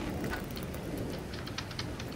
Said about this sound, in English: Cool breeze is blowing through and it's raining.